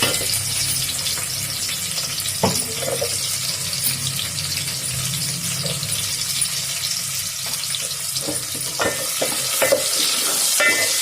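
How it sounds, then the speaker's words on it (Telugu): Ginger, garlic, onions and green chillies fry in a pan for Maggi noodles, with a loud, steady sizzling hiss and occasional stirring knocks and scrapes. "ముందైతే అల్లము వెల్లుల్లిపాయలు ముక్కలు కట్ చేసేసి అవి వేయించుకున్నాక ఉల్లిపాయలు పచ్చిమిరపకాయలు"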